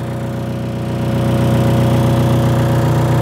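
A bulldozer's diesel engine runs at a steady, loud idle, a deep continuous drone that swells slightly with no voices.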